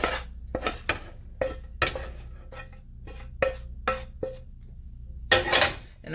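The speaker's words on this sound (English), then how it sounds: "And I'm going to stir this in." Ground beef is stirred in a pot with a utensil, giving a series of clinking, scraping knocks against the metal at an uneven rhythm, close and moderately loud, with a louder scraping flurry near the end.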